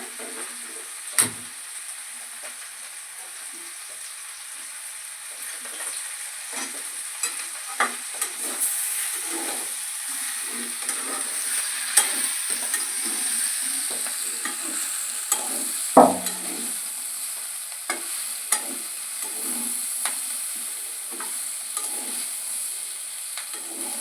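Vegetarian khichuri masala sautés in a pan with a steady, close sizzle and hiss, broken by repeated scraping strokes of a spoon stirring against the pan. One louder clack lands partway through.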